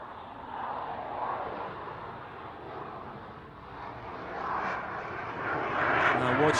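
A large fast jet making a high angle pass at about 110 knots during the RAF Waddington Airshow roars steadily at a distance, swelling louder toward the end, with a faint murmur of voices underneath.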